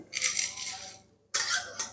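Fried spice mix being poured from a pan onto a plate in a home kitchen, heard as two short bursts of dry, gritty rattling and sliding with a brief pause between them.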